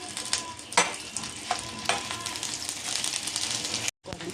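Cumin seeds and dried red chillies frying in hot oil, giving a steady crackling sizzle with a few sharp pops and stirring scrapes, close and fairly loud, briefly cut off near the end.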